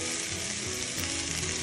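Water boils in a pan with common rice and chopped tomato, giving a steady, close bubbling and sizzling hiss throughout.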